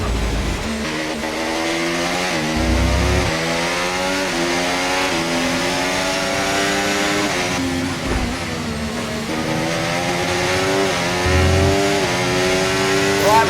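Formula 1 car engine in F1 24 at the Spanish Grand Prix with Mercedes, running hot: a steady, loud high-pitched whine that rises and falls through gear shifts, continuous and close.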